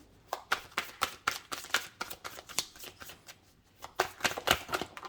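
Tarot cards are shuffled by hand in quick, crisp riffling bursts, a dozen or so close flicks and slaps in an irregular rhythm, briefly pausing before another flurry, heard alone and fairly quiet.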